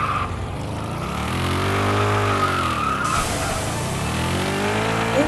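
A Lamborghini drifting in a racing game: a steady engine drone with sweeping, rising and falling tire squeal that swells in the middle and holds loud to the end, no talk.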